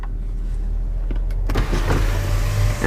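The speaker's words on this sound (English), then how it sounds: "right here is your sunroof controls" An electric motor whirs as the one-touch automatic sunroof opens on a 2017 Buick Enclave AWD, heard up close inside the cabin over a steady low hum, with faint clicks as it starts moving.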